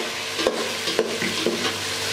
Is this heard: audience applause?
no